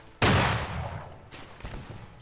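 A single loud, close musket gunshot in the Civil War video game Battle Cry of Freedom, a sharp crack with a long rolling decay, followed by a fainter distant report.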